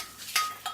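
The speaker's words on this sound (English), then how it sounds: "Give it a stir." A spoon clinks against a bowl while stirring gingerbread icing made from icing sugar and a little water, two short light scrapes close by with quiet pauses between.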